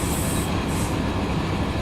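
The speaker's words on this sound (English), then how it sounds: "like train brakes or something" Train brakes squealing in the Run 8 train simulator game on a Modesto to Fresno run: a steady rolling rumble of rail cars, with high, thin brake squeals rising twice over it.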